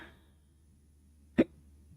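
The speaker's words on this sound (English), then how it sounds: "Fucking hiccups, man." A single sharp hiccup jumps out of a quiet indoor room, brief and close, with faint background hum around it.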